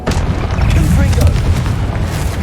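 A fiery Confringo spell blast in Hogwarts Legacy: a loud, close, rumbling boom that swells and rolls on, with a voice speaking over it.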